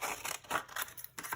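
Scissors snip through paper in short, crisp bursts while cutting out a hand-drawn paper flower shape, the close, quiet cuts coming in a quick irregular rhythm with no talking.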